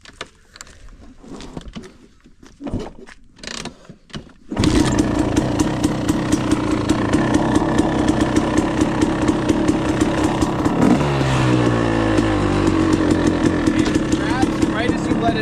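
A KTM motorcycle engine fires up and settles into a loud, steady, close-up idle with a rough, buzzing pulse, after a few faint knocks and handling sounds, with no voices over it.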